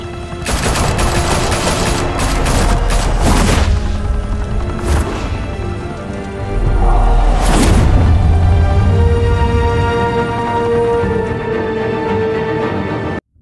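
Dense, sustained bursts of automatic gunfire from a Gotham-set video game shootout, loud and close, rattling continuously with heavier booming volleys around a few moments and a steady roar of shots throughout.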